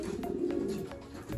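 Racing pigeons coo steadily in a loft after a training flight, soft repeated throaty calls close by with no talk over them.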